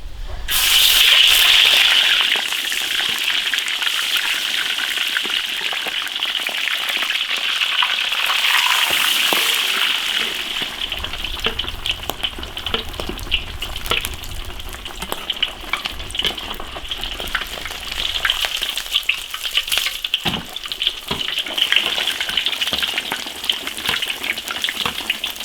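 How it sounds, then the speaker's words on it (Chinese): Pork belly deep frying in plenty of hot oil in an iron wok, a loud, dense crackling sizzle that runs continuously for the whole stretch with popping spatters throughout, no talking. "肉下锅炸"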